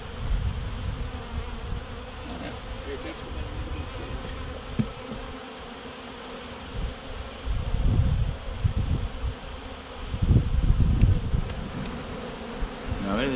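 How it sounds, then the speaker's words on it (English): A swarm of honeybees buzzing and flying around a hive, a steady dense drone that swells louder as bees pass close, with no talking. "I'm going to lose some bees here."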